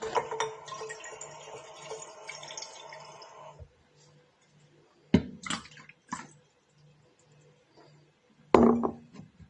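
Water poured into a measuring container, a short run of pouring and trickling followed by a few separate splashes and knocks, close and moderately loud.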